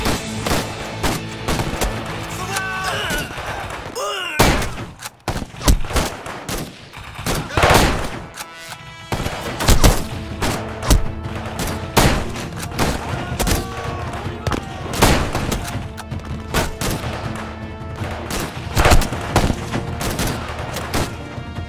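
Gunfire in a Điện Biên Phủ war video game, rapid bursts of close, loud shots and booming blasts repeating throughout, with someone talking between and over them.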